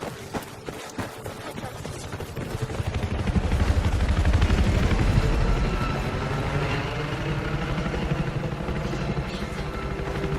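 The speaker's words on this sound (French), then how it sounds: "Attention! Hélico à l'approche!" An attack helicopter in the Battlefield 4 video game approaches over a battlefield, a steady rotor and engine roar that swells louder through the middle and then holds on, with gunfire and battle noise mixed in.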